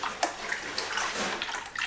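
Road Opener floor wash solution is stirred into a container of water by hand, with brief splashes and sloshes that come close and fairly quietly, no speech.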